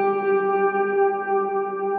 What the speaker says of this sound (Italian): sotto si sente un pochino una nota bassa perché aggiunge l'ottava giù.